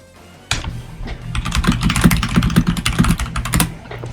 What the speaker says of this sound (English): Very loud keyboard noises.